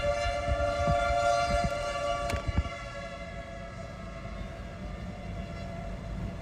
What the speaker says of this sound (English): Tornado sirens are blaring right now.